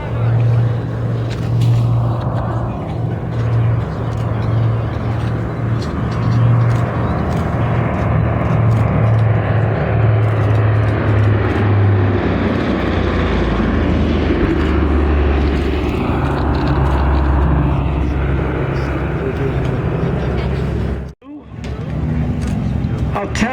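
A WWII bomber, Diamond Lil, flies past at an airshow with a loud, sustained engine drone that rises and holds for about twenty seconds before a brief dropout, while crowd and wind noise mix in.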